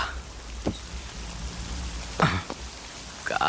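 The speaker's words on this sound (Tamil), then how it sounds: "காலையிலே மழை பெஞ்சு இரிட்டேட் பண்ணிட்டு இருக்கு" Steady morning rain falls in a soft, continuous hiss, with a few louder knocks and splashes standing out near the start and end. No one speaks.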